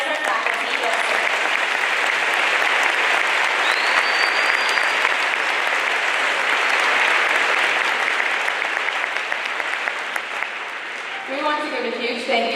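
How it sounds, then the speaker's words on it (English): Sustained, loud applause fills a school Veterans Day assembly honoring faculty veterans, a dense wash of clapping from a large audience that eases slightly near the end as a voice begins speaking. "Join us in a round of applause to recognize our faculty who have served."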